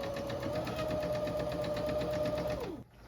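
A sewing machine stitches a tight seam on a Jasmine dress, right sides together, giving a close, steady whirring hum with fast rhythmic needle clatter that runs evenly for nearly three seconds before winding down and stopping.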